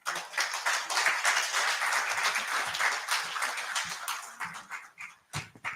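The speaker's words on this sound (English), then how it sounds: "So we clap for her until she sits" At a citizen assembly on debt and anti-corruption, audience members clap for a speaker as she returns to her seat. The clapping is brisk and sustained, then thins into scattered claps that trail off near the end.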